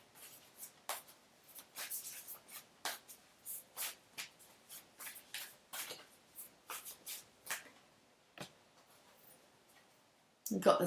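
Angels and Ancestors oracle cards being shuffled by hand, a quick run of soft rhythmic riffling taps and flicks at close range, followed by a louder rustle as a card is drawn.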